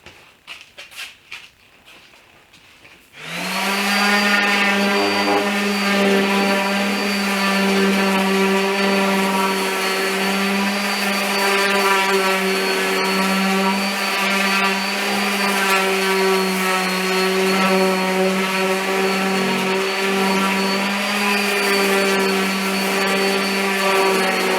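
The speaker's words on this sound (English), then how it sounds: "Now I'm going to sand for the other table, which is the sofa table" A power sander works on a wooden sofa table, starting after a brief few knocks and then running as a loud, steady, high-pitched whine that holds nearly unchanged for over twenty seconds.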